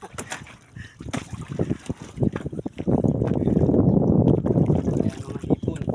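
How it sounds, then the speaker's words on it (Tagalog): Ride in a small wooden boat (bangka) on Laguna lake carrying shrimp from Isla Talim, with a steady close engine-and-water rush that swells midway, wind buffeting the microphone and splashes throughout. "At ito, nakasakay tayo sa bangka."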